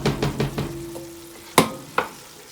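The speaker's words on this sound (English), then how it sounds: "So now we're going to scrape in our roux and tomato mixture." A roux and tomato mixture is scraped into a pot of reduced wine, several quick scraping knocks against the pot, a faint sizzle underneath, then two sharper clanks.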